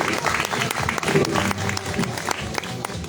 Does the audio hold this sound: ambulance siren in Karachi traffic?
no